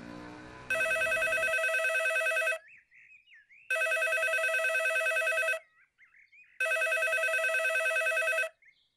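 A telephone rings in three long electronic bursts with short gaps between them, loud and close, with a brief burst of low noise at the very start and no voices.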